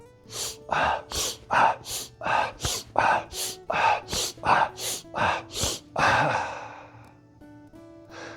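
Around a dozen sharp, evenly spaced nasal breaths are taken in Strelnikova-method breathing gymnastics, a quick rhythmic pumping series close up, ending in a longer, slower breath out.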